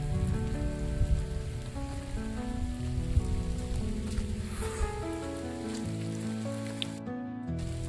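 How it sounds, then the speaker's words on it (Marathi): Steady rain pours on Avchitgad, a hill fort in Raigad, making a constant soft hiss and patter with no voices over it. "आज पाऊस चालू झालेला आहे."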